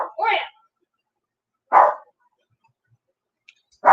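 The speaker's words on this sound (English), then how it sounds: "Dang dog." A pet dog named Oreo barks indoors, two or three short sharp woofs spaced out by long silences, loud and close with nobody speaking.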